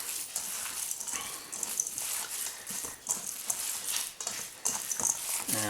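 Meatball mixture for Greek youvarelakia soup being mixed by hand, a soft, wet, squelching and patting texture that goes on steadily and fairly quietly.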